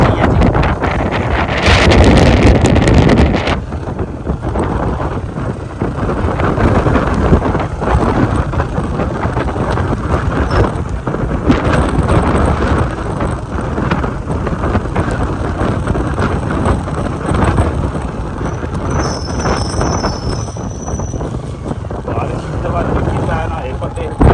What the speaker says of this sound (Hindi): काफ़ी ज़्यादा हवा काफ़ी तेज़ है